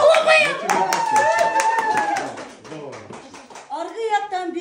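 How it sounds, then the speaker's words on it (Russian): Audience applause at a children's New Year party, a burst of clapping under loud talk and children's voices, fading mid-clip before speech resumes. "Давайте похлопаем!"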